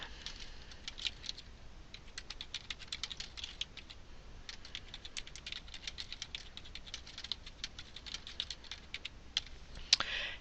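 Rapid clicky typing on a computer keyboard during a chat session, soft but close, with irregular bursts of keystrokes running continuously and no talking.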